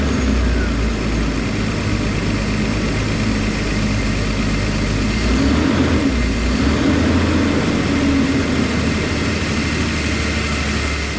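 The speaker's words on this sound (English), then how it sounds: "Now we're going to start the engine with the funnel still on, with the blower speed on 1 and the heat all the way up." A 2001-2006 BMW 325xi engine idles steadily after a thermostat and housing replacement, a close, continuous low rumble with an even drone and no speech.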